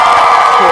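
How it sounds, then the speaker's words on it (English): Sports show audience cheering: a loud, dense crowd roar with whoops and shouts, brief and sustained without gaps. "Can I hear the cheer for that?"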